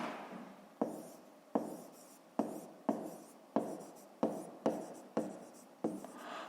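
A pen scratches across paper while a fifth-grade math exercise is written out. About nine rhythmic strokes and taps sound close and soft, alone without talk.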